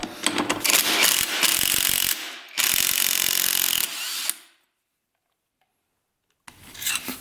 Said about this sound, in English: Let's get this nut off of here and get the flywheel off.